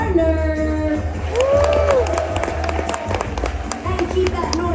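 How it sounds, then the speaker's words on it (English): Convention audience at a celebrity game-show panel claps and cheers in a sustained round of applause, while an amplified voice and music-like tones ring over the crowd. "keep that round of applause going"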